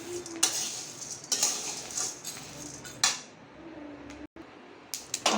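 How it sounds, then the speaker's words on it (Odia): Peanuts frying in a pan for a toddler's meal, with repeated scraping and stirring scuffs and light clinks over a faint steady sizzle, close by and in irregular bursts. "ଦେଖନ୍ତୁ ବାଦାମକୁ ଅଲଗା ଭାଜୁଛି"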